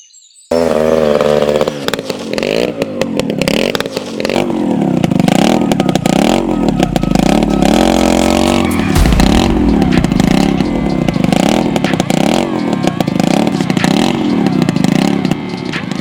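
A motorcycle engine revs hard and repeatedly at close range, a loud continuous growl with rhythmic throttle surges and rattling, its pitch dropping near the end, with no speech over it.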